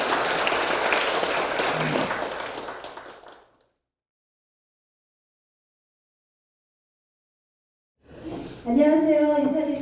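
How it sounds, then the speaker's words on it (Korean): An audience at a career-break prevention program briefing applauds warmly, a dense wash of clapping that fades out after a few seconds into silence before a voice begins speaking. "따뜻한 박수 다시 한번 부탁드리겠습니다"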